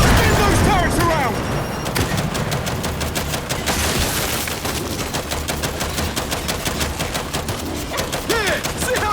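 Mounted turrets in Gears of War 5 pour out rapid, continuous automatic fire that runs almost unbroken for nine seconds, loud and close, with heavy thumps mixed in and voices shouting over the barrage.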